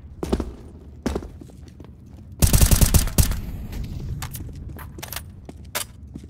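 Gunfire in Counter-Strike: Global Offensive during an online match. A few scattered sharp shots come first, then a dense burst of rapid automatic fire, followed by more isolated shots and faint clicks and footsteps. No one speaks.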